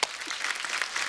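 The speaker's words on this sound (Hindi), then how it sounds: "ये तालियां उस आदमी के लिए जिसके साथ आपकी शादी होगी" Studio audience applause on a Hindi comedy talk show, a short burst of dense, close clapping from a sizable crowd, steady and fairly loud, with no speech over it.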